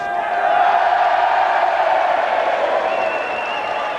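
Home rugby crowd at a Newport Gwent Dragons versus Neath-Swansea Ospreys match erupting as a player is sent to the sin bin, a dense, sustained roar of cheering and shouting across the stadium with no gaps.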